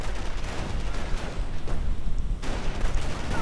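Machine-gun fire and scattered shots from a WWII-style war video game, with Panzergrenadiers caught under a heavy machine gun team; a dense, continuous barrage of gunfire with no talk.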